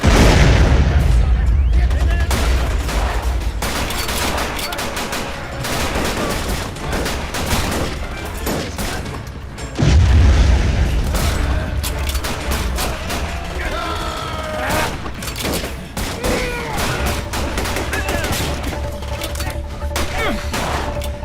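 Battle scene from a Hindi patriotic war film with dense gunfire, machine-gun bursts and booming grenade explosions, loud and continuous, with shouted voices mixed in.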